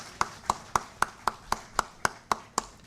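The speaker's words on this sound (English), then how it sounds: "Let's once again give a big round of applause to the off-screen efforts that made this launch a reality." Audience clapping at a foundation day celebration, about ten crisp claps in a steady, evenly spaced rhythm, fairly close, with nothing else over it.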